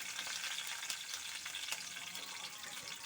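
Garlic and curry leaves frying in a hot pan with the stove just switched off, a dense, steady crackling sizzle with scattered sharp pops, close and continuous, with no talking.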